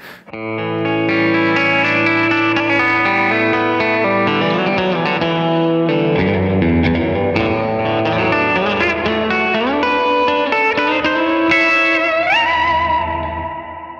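Someone plays electric guitar in sustained, layered notes drenched in heavy reverb and echo, washing together into a continuous shimmering wall of sound.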